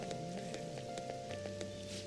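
Rain patters steadily in a Persona 5 Royal scene, a soft even hiss of falling drops under faint tonal background music, heard quietly throughout.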